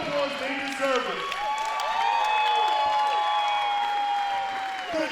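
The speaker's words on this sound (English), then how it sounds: "Give them a round of applause, they deserve it." An audience applauds and cheers at a pro wrestling training center, steady clapping with scattered whoops running the whole time under a voice talking over it.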